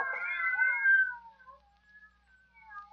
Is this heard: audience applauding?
no